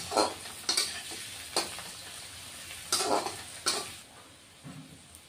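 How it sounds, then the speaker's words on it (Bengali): Steady oily sizzling of potatoes with a little turmeric frying in a pan, broken by several sharp scraping stirs at irregular intervals; no voices. "দিয়ে আলুগুলি ভেজে নেব"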